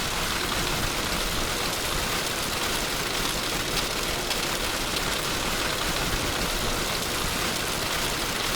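Dense, steady hiss of hail and rain drumming on an aircraft in Microsoft Flight Simulator X, loud and unbroken throughout with no voices.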